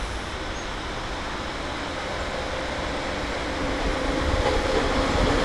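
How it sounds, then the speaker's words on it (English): A train rumbles along the tracks in a steady broadband roar, growing slightly louder toward the end as it passes nearby, with no talking. "I hear a train coming the other direction"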